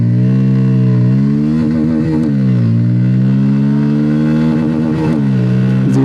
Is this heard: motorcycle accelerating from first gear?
yes